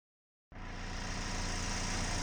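A Chevy HHR 2.4L car engine starts abruptly and settles into a steady, close idle with a low rumbling hum and faint vibration, running continuously with no talk.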